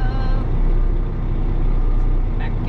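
A 2020 Kenworth T880 super dump truck idles and rumbles as it backs up around a yard, with a steady low diesel drone, a faint air hiss near the end, and voices talking in the background.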